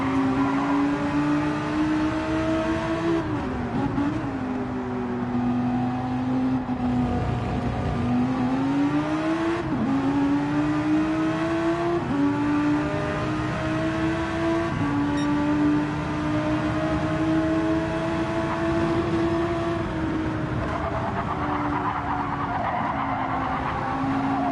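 Race cars roar past in a steady, loud engine drone with shifting pitch as they accelerate, downshift and rev, with tire squeal through corners on a racing circuit.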